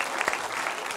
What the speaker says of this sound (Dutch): nog één keer een grote applaus voor de meiden